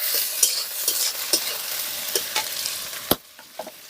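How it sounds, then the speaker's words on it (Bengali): Sliced onions fry with a few green chillies in a hot pan for a Bengali chicken curry, a steady close sizzle broken by repeated scraping and stirring strokes, with no voices. "পেঁয়াজটাকে এবারে আমি ভালো করে ভেজে নেব, বাদামি কালার হওয়া পর্যন্ত সুন্দর করে ভেজে নেব।"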